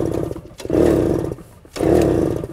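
A 1966 Harley-Davidson Aermacchi M50S two-stroke engine blares through two loud, close revving bursts, each rising and holding, separated by a short drop to a lower idle.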